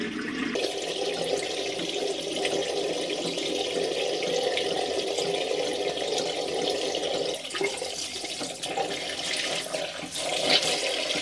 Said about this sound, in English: That tap is so loud